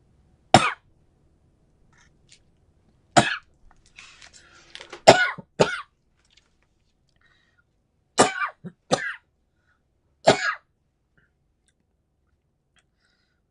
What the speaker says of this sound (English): please excuse my chronic cough.